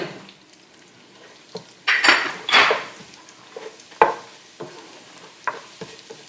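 Dried red chilies and cumin seeds toasting over medium-high heat in a pan, with a light sizzle under several metal scrapes and clinks of utensil against pan, close and up front.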